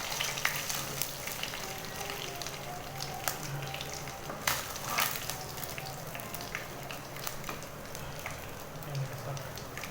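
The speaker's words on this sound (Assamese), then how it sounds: "ৰঙাকৈ আমি ভাজি লৈছোঁ" Fish frying in an open pan, a continuous soft sizzle with scattered crackles and spatters, fairly quiet, with brief speech-like traces in the background.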